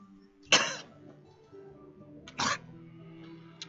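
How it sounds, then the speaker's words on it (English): A female character in Divinity: Original Sin 2 gives two sharp, harsh bursts, a retching cough and then a sneeze, each short and close, separated by a quiet pause. "explodes in a fit of retching that racks her body. At last, she sneezes"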